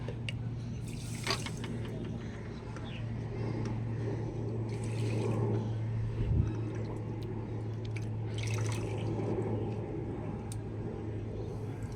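Water poured from a bowl over a bowl of sugar in a pot, making syrup for raw-mango rasgulla: soft splashing bursts come and go over a steady low hum and a faint background bed.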